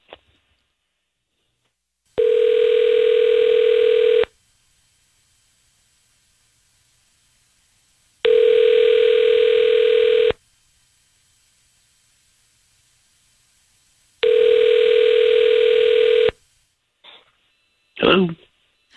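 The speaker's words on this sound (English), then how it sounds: "we're going to call him right now" A telephone line gives three evenly spaced ringback tones while a call is being placed, each a steady buzzing tone of about two seconds followed by several seconds of silence, then a faint brief noise at the end.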